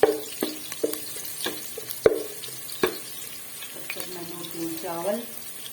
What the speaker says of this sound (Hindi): तो ये मेरा प्याज हो रहा है ब्राउन।